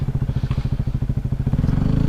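A Yamaha WR250R dual sport motorcycle idles close by with a steady, rapid thumping engine pulse that quickens slightly near the end, with no voices.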